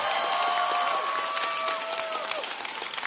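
A commencement audience applauds steadily, a dense wash of clapping with a sustained tone and faint voices in the crowd throughout.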